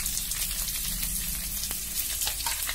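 Garlic, drumstick pieces, curry leaves and coriander stems frying in hot oil for a drumstick aloo pepper fry, a close, crackling sizzle with scattered pops and no speech.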